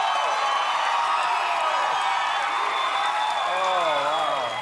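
A studio audience at a late-night talk show applauds and cheers in a dense, steady roar of clapping and whoops that carries loudly throughout.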